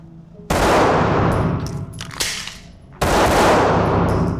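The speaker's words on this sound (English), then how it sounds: "I'm going to shoot and show you these in real time." Handgun shots fired during a speed reload drill, two loud sharp blasts a few seconds apart with ringing decay and a metallic clatter of the reload between them.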